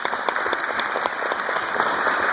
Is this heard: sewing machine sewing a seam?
no